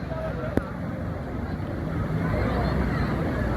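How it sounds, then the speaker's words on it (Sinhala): A boat runs out at sea near Coral Island in Pattaya, its steady engine and water rush filling the clip along with wind buffeting the microphone, fairly close and continuous. "දැන් බෝට්ටුවක් පදින්න යන්නේ"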